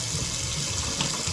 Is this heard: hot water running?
yes